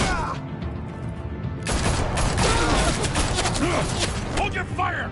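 Dense gunfire in Batman The Telltale Series, a sustained fusillade of overlapping shots and bursts that grows louder partway through, with voices talking over the clamor.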